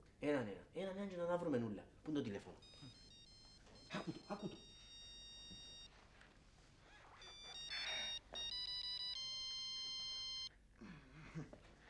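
A telephone ringtone plays in steady electronic tones, sounding twice in sustained bursts between stretches of people talking nearby.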